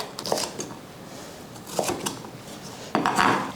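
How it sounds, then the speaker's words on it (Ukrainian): A knife cuts red bell pepper into medium cubes on a board, making three separate bursts of crisp cutting and clattering knocks at close range, with quiet gaps between them and no voices. "Перець нарізаємо кубиками, не надто дрібно, не надто крупно, оберіть якийсь середній варіант."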